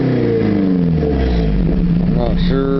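A Nissan Hardbody truck with a Flowmaster exhaust and Edelbrock air cleaner rumbles close at the tailpipe, the engine note rising and falling as it revs, with someone talking over the loud exhaust.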